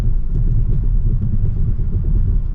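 A 2022 Kia K5 GT in Sport Plus mode rolls over train tracks, giving a steady, loud low rumble of engine and road noise from inside the cabin with no voices.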